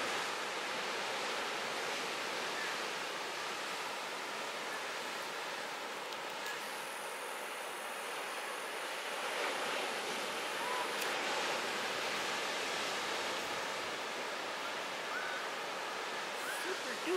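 Ocean waves breaking on rocks at Cape Disappointment near a lighthouse, a continuous broad wash of surf roaring steadily with slight swells in intensity, no voices.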